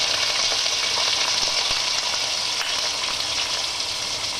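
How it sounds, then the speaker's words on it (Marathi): Mixed vegetables crackle and sizzle in hot oil in a pan for a pizza topping, a dense, steady, close frying hiss with no talking. "आता आपण तेल गरम केलेलं आहे, तर आपण त्यात सगळ्या भाज्या टाकून घेणार आहोत"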